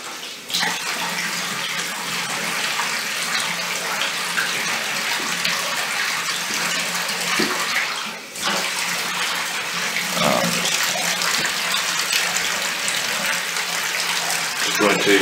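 Water pours steadily from a tap into a container for developing black-and-white film with CineStill DF96 monobath, a continuous loud rushing gush with one brief dip midway.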